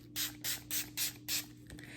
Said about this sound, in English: this is a 5-in-1, so it's a primer, mist, and setting spray all at the same time